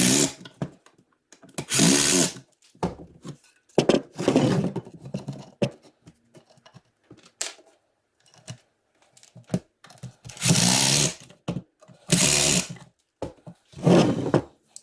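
A power drill cuts pocket holes in wood for a farmhouse table in repeated loud bursts of whirring, separated by short quiet pauses and handling noise.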